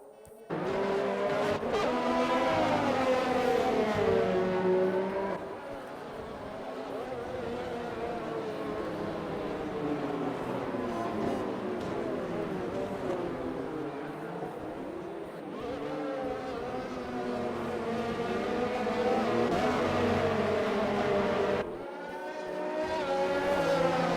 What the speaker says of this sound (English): Safety car's going to go around rather slowly.